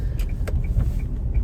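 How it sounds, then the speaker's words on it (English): Steady low road rumble from inside a moving car, a continuous engine and tyre drone with faint higher rattles over it, no talk. "Excuse if there's any noise, but I'm just driving at the moment."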